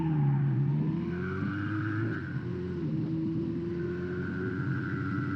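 A GPZ600R motorcycle with freshly synchronized carburetors hums along on a test ride, its engine a steady droning whine with slight pitch shifts, moderately loud and continuous with wind rumble.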